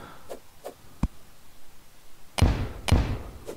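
Explosions go off in the video game Terraria, several quick booming thuds: three lighter pops early on, then two heavier, louder blasts close together near the end, with no talk.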